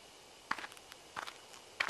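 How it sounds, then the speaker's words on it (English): Three short rustling footsteps crunch through bushes in a quiet horror game scene, each a brief, close scuff separated by pauses, with no voices. "I hear footsteps again."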